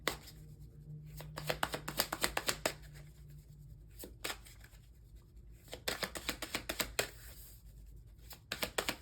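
Tarot cards being shuffled by hand, a run of crisp riffling flutters and soft slaps in close, repeated bursts with short pauses between them, nothing else over them.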